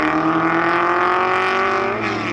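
A 1962 Ferrari and a 1958 Porsche race closely on track, their loud engines blaring in a continuous, high-revving roar that shifts pitch slightly near the end.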